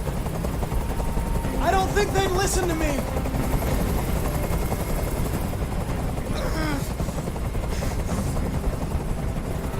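Constant helicopter rotor drone from the video game Detroit: Become Human, loud and steady throughout, with voices speaking over it.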